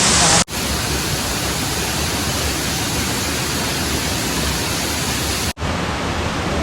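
Paradise Ella waterfall on the Sri Pada hiking trail roars as a loud, dense, unbroken rush heard from its top, filling the whole stretch with a steady broadband wash of falling water.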